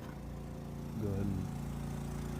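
A portable generator runs with a steady low mechanical drone outside a Winnebago Revel van. The hum swells a little louder for a moment midway and then settles back, with a person talking nearby.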